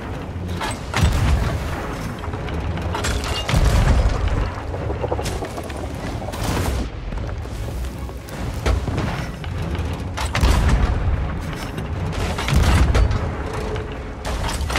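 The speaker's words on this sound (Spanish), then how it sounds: "yo lo mato con cañones" Ship cannons in Sea of Thieves fire repeatedly at a boss, a series of heavy booms at irregular intervals over creaking wood, water and a steady rumbling background.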